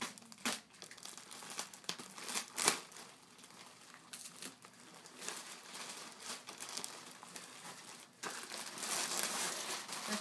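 Strong packing tape is being pulled and torn off a cardboard package during an unboxing, a close, quiet run of rasping rips and crinkles in irregular bursts, with a longer tearing stretch at the end.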